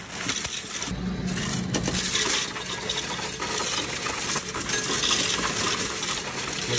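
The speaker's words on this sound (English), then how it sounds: "let me pour my coins in there" A large handful of coins is poured into a Coinstar coin-counting machine, making a dense, loud metallic rattling and clinking that runs continuously from start to finish.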